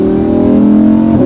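Lamborghini Huracan V10 fitted with a Supersprint exhaust holds a steady, loud engine note, a dense, rumbling drone heard close and alone for just over a second.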